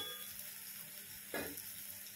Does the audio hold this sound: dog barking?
no